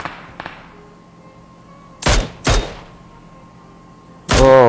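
Gunfire in the mobile battle royale game PUBG Mobile: a few sharp, loud shots spaced apart over a quiet low hum, with a heavier, ringing blast at the end.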